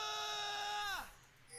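A cartoonish scream from Ezreal's emote in League of Legends Battle Academy, a sustained high wail that bends sharply downward and cuts off, followed by brief quiet.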